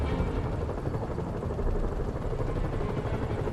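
Helicopters in the video game Spider-Man on PS4 give off a steady, loud rotor drone and engine rumble that holds constant throughout, with no voices.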